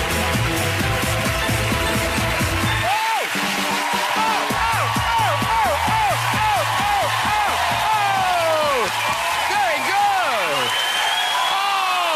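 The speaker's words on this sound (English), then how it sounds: "there is nothing like the sound of 600 people clapping" A studio audience of about 600 people claps continuously at a television chat show, the applause dense and sustained, with a few whoops and cheers rising over it.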